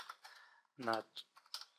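Keys on a computer keyboard tapped in a few short, quiet bursts of clicks while entering a series name in an Excel 2013 chart dialog, with a brief voice cutting in partway through.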